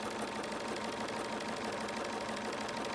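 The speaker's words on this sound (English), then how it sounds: "I'm going to sew across here" A sewing machine stitches across the cotton fabric of a homemade face mask, giving a steady, even whir that runs without a break for the whole stretch and sits close and fairly loud.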